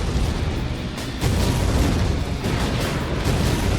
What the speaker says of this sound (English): The explosions are screwing the surveillance up